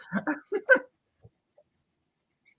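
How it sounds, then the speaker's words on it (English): Crickets chirping steadily in a quiet room at night, a regular series of high, thin, evenly spaced chirps running on after a few seconds of speech. "Crickets they're screaming at me right now."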